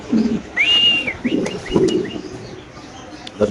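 Soft bird calls from a pigeon farm with Spanish and King pigeons, including a clear whistled note and a few short chirps, over low murmuring coos and faint background noise.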